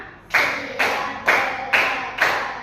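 Five evenly spaced unison claps from a class of students during a lesson warm-up, each a sharp collective burst of many hands fading quickly, steady rhythm around two per second, no voices.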